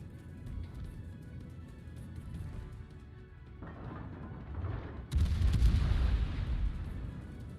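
Heavy naval guns boom in the World of Warships video game as the battleship Ohio and other ships fire, with rumbling low blasts throughout and a louder, sustained salvo erupting partway through.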